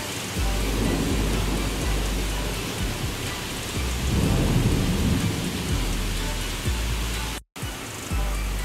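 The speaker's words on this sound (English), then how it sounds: "It's a rainstorm!" A heavy rainstorm pours down steadily and close, with low rumbles of thunder rolling through the rain and one brief dropout near the end.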